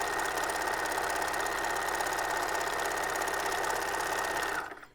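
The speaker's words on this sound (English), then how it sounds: "Make sure and use your stretch stitch. And we're going to sew that up." Sewing machine running a stretch stitch on a costume, its needle clattering in a fast, even, continuous rhythm up close, then stopping abruptly near the end.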